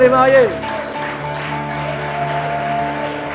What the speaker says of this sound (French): Tu sens quand même que la clameur des mariés est différente de celle des célibataires